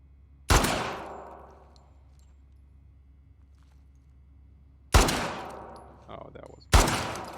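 Pistol shots ring out in the video game The Last of Us Part II: three loud, sharp cracks spaced several seconds apart, each trailing into a long echo, with a softer thud between the last two.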